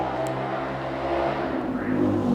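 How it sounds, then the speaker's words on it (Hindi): A motorbike passes outside, its engine a steady low drone that swells slightly toward the end, heard at a moderate distance with no voices over it. "अब 10वें क्वेश्चन का रूल समझाने से पहले इस बाइक का निकलने का वेट कर लेता हूं।"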